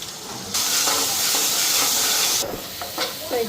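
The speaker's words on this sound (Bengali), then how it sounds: "এদিকে মশলাটা ফ্রাই করে নিতেছি।" Spice paste made with salt and turmeric fries in mustard oil in a wok, giving a steady loud sizzling hiss that starts suddenly, holds for about two seconds and then drops to softer crackles.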